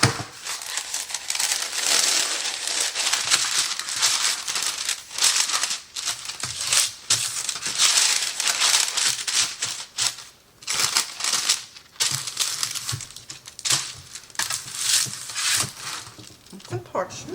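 Parchment paper handled in a home kitchen while baking, crisp crinkling and rustling bursts coming in irregular clusters with brief pauses, close and fairly loud.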